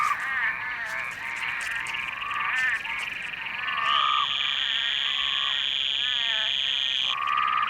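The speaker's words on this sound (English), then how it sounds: "They have this call that they use, looking specifically for male frogs, but of their own species." Arizona desert frogs call in a chorus of chirping, warbling trills, with a sustained high whistling tone entering partway through, loud and continuous over several seconds with no voices.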